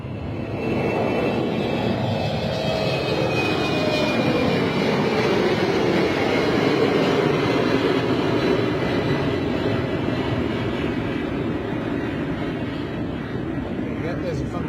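A KLM Embraer jet takes off from London City Airport, its engines giving a loud, sustained roar with a descending whine that holds steady through the whole stretch.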